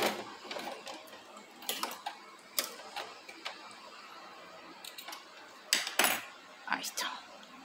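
A sewing machine runs in bursts as it stitches over the start of a seam to join it and backtack, its clattering whir starting and stopping repeatedly at close range.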